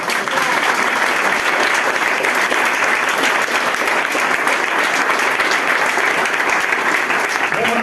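An audience at a reception event for Rocío 2022 authorities, held at the Casa de Andalucía, applauds in a loud, sustained, even wash of clapping that runs unbroken for nearly eight seconds.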